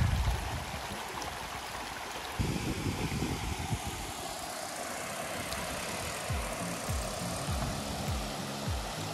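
A river flowing near a waterfall, a steady broadband rush of water throughout with some lower rumbling bursts, fairly distant and without talk.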